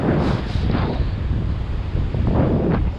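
Strong, steady wind buffets the microphone in a constant roar on Fort Lauderdale Beach, with surf-like swells rising and falling underneath.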